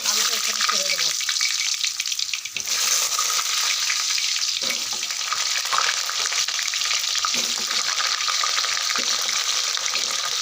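Potatoes sizzle loudly in hot oil in a wok, a dense crackling fry close by, with a few light clatters and stirring sounds breaking the steady hiss.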